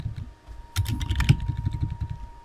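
Rapid, close keyboard typing while entering code for a Unity3d open-world RPG game, with bursts of crisp clicks and a brief pause before the clatter resumes.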